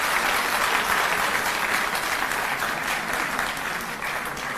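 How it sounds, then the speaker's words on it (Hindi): A large audience claps loudly and steadily throughout at a political gathering after exit poll results, the dense applause sustained without a break and no clear voices over it. "एक बार जोरदार तालियां बजा दीजिए इसके लिए।"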